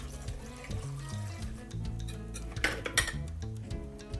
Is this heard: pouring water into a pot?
yes